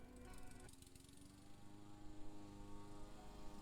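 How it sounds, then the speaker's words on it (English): A steady mechanical drone of a lawnmower engine, continuous and fairly close, holding an even pitch throughout with no talking. "the annoying drone of a lawnmower"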